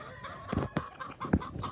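A proven hen in molt gives soft, short clucks, a few close quiet calls over low farmyard background noise.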